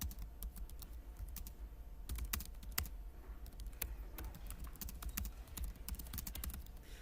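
Rapid clicking of a computer keyboard as code is typed, steady bursts of light keystrokes close by with short pauses, quiet and without talk.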